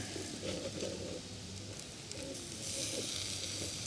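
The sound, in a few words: shashlik meat grilling on skewers over coals in fire bowl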